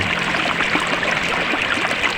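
The Sapa river flows gently after rain, a steady close wash and trickle of water that stays even throughout with no voices.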